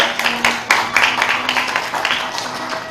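Wedding guests clap for the two mothers bowing to each other at a Korean wedding ceremony. The applause comes in steady, irregular bursts of moderate loudness, with a faint sustained tone running beneath.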